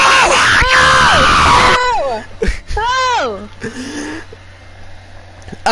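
A racing-league commentator screams loudly and at length over a sim race at Hungary, a sustained rising-and-falling shriek, then breaks into excited, wavering yells and groans with a car engine droning faintly underneath.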